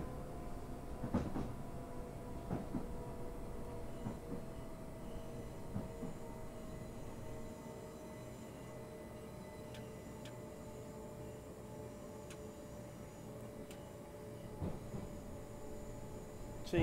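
A train runs along rails on the London to Brighton route in Train Simulator 2014, giving a low steady rumble with sparse clicks and clacks, fairly faint and continuous, with no talking.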